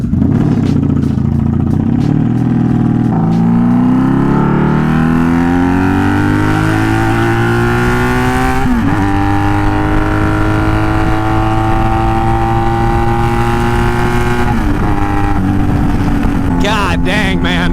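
A motorcycle being ridden revs up loudly and close, its engine pitch climbing steadily, then it shifts up through two gear changes and carries on under constant wind rush.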